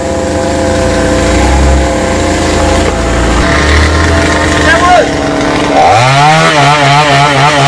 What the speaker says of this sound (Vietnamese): Ba của Hoa mới cưa mấy phần nhánh nhỏ bên đây nè